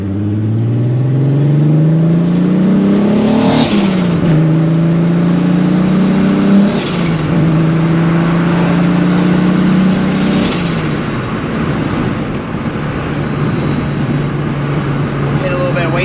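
A VW Corrado VR6 turbo revs hard several times, each rising engine scream cut off by a sharp hissing blow-off valve release, loud and close, with people talking over the engine.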